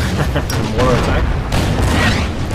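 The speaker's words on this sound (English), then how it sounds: "And the artillery is relentlessly trying to hit us." Artillery fire in a war strategy video game booms heavily and repeatedly, loud and dense with rumbling blasts, while someone talks over it.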